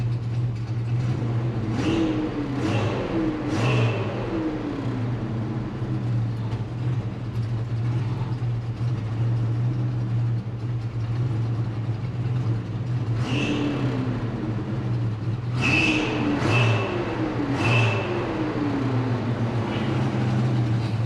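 Chevrolet El Camino engine idling steadily after a carburetor rebuild, with a low constant hum and several quick throttle blips that rise and fall, close and loud.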